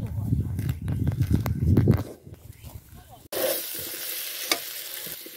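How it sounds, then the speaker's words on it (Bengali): Potatoes sauté with meat masala in a pan, giving a loud stirring sizzle at first that drops away, then returns as a steady hiss after a cut, with a person talking over it. "আলুটা ভালো কষানো হবে।"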